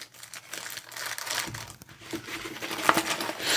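Cardboard and plastic packaging from a Wahl Pro Series Skeleton trimmer box being folded down, with close, continuous crinkling and crumpling and a sharper crackle near the end.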